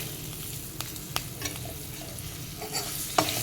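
Chillies, curry leaves and snake gourd frying in a pan for a Kerala-style vegetable dish, a steady sizzle with intermittent stirring scrapes and clinks, close and moderately loud with no talking.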